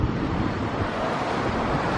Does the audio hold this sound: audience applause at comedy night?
no